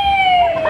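A person vocally imitates a roller coaster at a Harry Potter fan celebration Q&A, a loud, brief, siren-like wail that glides slowly downward in pitch.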